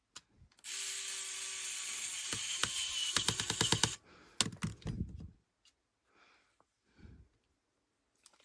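Small screws are driven into a PS Vita 1000 handheld console: a close run of rapid ratcheting clicks from a screwdriver, then a few separate taps and clicks before near silence.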